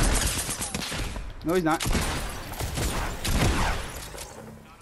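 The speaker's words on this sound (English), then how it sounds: "We got people shooting from the back." Video game gunfire from enemies firing from behind, crackling in rapid bursts under excited player talk.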